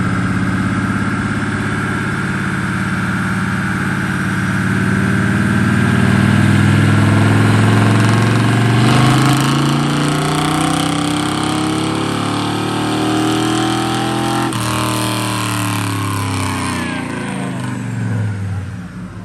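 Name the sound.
truck engine running on a dyno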